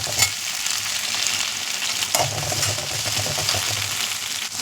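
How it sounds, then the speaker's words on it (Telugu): Okra frying in a little oil in a hot pan, a steady close sizzle that runs the whole time, with occasional stirring scrapes and no talking. "ఆయిల్ తాగిన తర్వాత ఫస్ట్ బెండకాయలు వేసేసి కొద్దిసేపు వేయించాలి."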